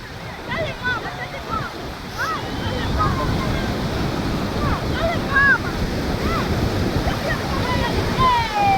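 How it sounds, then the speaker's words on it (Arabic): Sea waves roll onto a coarse-sand beach at Marsa Matrouh, a loud, continuous wash and surf roar heavily buffeted by wind on the microphone, with faint seabird-like cries over it. "الموج بتيجي على الواحد تخفيه خالص"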